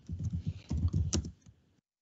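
Quick bursts of key taps on a computer keyboard while a heading is entered in an Excel spreadsheet. The close, crisp clicking runs for about a second and a half, then stops.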